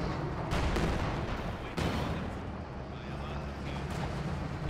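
A German 88 gun fires in Company of Heroes 2, heavy booming blasts with sharp onsets around one and two seconds, rolling into a dense rumble of battle noise that fills the whole stretch.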